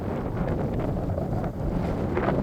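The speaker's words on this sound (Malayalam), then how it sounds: "പൊരിഞ്ഞ കാറ്റും" Strong wind gusts across an open hilltop viewpoint at Rajathottam in Kollam, on the Kerala–Tamil Nadu border, producing a steady, close, low buffeting rumble on the microphone throughout, with no voices.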